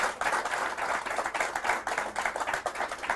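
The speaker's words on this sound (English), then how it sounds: "I'm actually going to ask everybody to clap properly for everybody on the panel." A television studio audience claps steadily for the show's panel, dense and fairly close throughout, with no speech over it.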